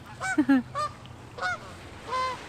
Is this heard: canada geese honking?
yes